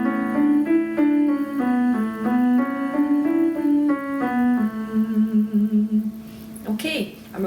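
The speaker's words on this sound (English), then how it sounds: "nice gentle hum, and it sounds like this" A singer demonstrating a gentle closed-mouth vocal hum as a warm-up exercise, sustained warm tones stepping through a short series of pitches, close and clear, ending with a brief breath.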